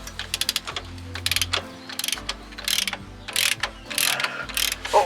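A ratchet loosening the strut bolts on a Fiat Scudo front suspension, with rapid clicking bursts in uneven spurts, close and fairly loud, alone without speech.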